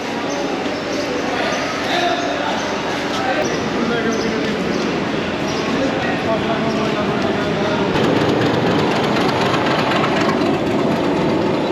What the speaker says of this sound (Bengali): মাত্র ইঞ্জিনটা নিয়ে গেল